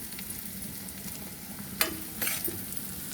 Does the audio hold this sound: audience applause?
no